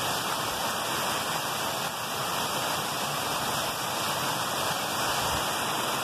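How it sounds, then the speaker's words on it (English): A canal waterfall between Elsecar and Hemingfield near Barnsley sends out a steady, even rush of falling water that fills the scene without a break, with no voices. "So you can see now how big the waterfall used to be."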